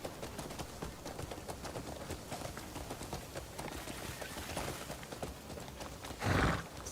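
Steady clip-clop of an injured horse's hooves in the video game Crimson Desert over a busy, noisy background, ending with a short louder burst near the end.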